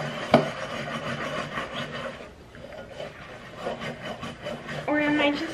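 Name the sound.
scrubbing with a Scrub Daddy sponge and grease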